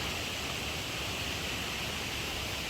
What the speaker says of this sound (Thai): นี่ถึงน้ำตกแล้ ว เราจะเล่นตรงน้ำตกตรงนู้นก็ได้